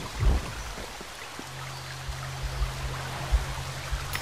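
Water from a shower in the video game Alice: Madness Returns splashes and patters in a steady wash, with a low hum joining halfway and a few soft thumps.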